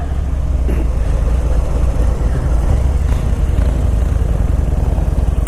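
A 2018 Harley-Davidson Breakout 114 engine held at its rev limit, a loud, steady, close rumbling drone that runs continuously with no voices.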